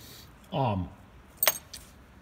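Spare car ignition keys jangling in a quick metallic rattle with a sharp bright clink and a fainter follow-up, right after a short spoken word nearby.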